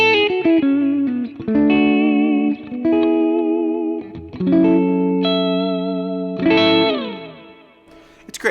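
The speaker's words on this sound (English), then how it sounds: "So let's go delay, delay. Now this is the 66 AC Top Boost B3 profile, and it sounds like this." Electric guitar played through a Kemper profile of a 1966 AC30 Top Boost bright channel with delay and reverb, ringing chords and single notes that bloom and trail off in echoing repeats, alone with no talking.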